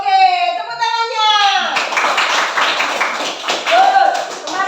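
After a teacher speaks, schoolchildren in a primary classroom break into brief, lively hand clapping, a few seconds of close, uneven claps with young voices mixed in.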